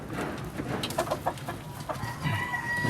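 Chickens cluck and a rooster crows in a hobby coop alongside ducks, with overlapping clucks and short bird calls close by over a busy barnyard background and no talking.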